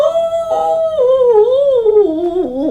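A voice imitates an old hound dog howling: one long, loud, mournful tone that starts steady, then wavers and slides downward over nearly three seconds, heard alone.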